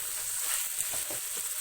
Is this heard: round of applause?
no